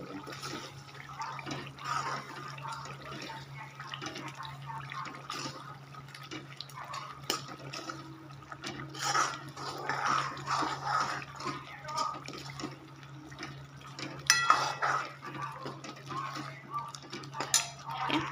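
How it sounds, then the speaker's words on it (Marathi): Cooked dal (varan) is poured into a pan for Namdev rice and stirred in, giving wet sloshing, spoon clinks and metallic pan scrapes at close range over a low steady hum. "अशा प्रकारे सगळं वरण टाकायचं आहे बघा छान असं परतून"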